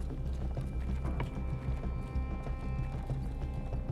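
Footsteps in the video game Escape from Tarkov, on the Factory map during PVP, thud in a steady quick rhythm over a low rumbling background, moderately faint and continuous with no talk.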